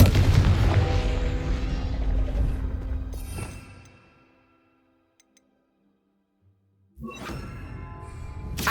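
A Confringo blasting spell erupts in Hogwarts Legacy with a loud, rumbling boom that decays into near silence, followed by another sharp burst of sound a few seconds later.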